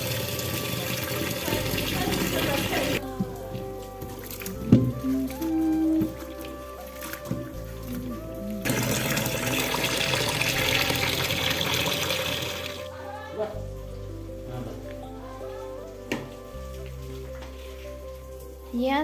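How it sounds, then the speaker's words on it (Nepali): Corn cobs being washed under running water in a home kitchen, a steady splashing and trickling stream with intermittent clatter, continuing through the whole stretch with a brief quieter pause midway. "अब यसलाई चाहिँ हामी धुनुपर्छ"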